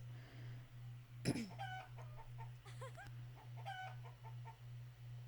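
Chickens in the Summer in Mara farming video game cluck in short repeated bursts over a steady pulsing low hum, with one sharp louder squawk near the start, all fairly faint.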